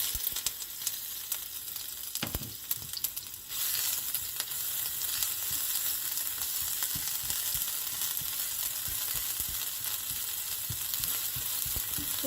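Ginger garlic paste sizzles in about two tablespoons of oil for chicken kachori, a steady close hiss with a brief utensil clank early on and no voices.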